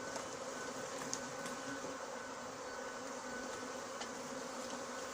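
A swarm of honeybees buzzes steadily in and around a cardboard box during the capture of a swarm, a dense continuous hum, close and even throughout.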